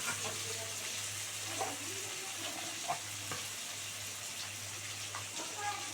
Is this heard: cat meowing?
no